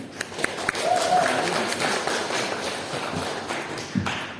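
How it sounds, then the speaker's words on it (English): Scattered audience clapping at a poetry reading in Margate, a steady patter of hands with a few sharper taps and thumps over a murmuring room. "Charitably, I'm going to say that's just you keeping warm by clapping"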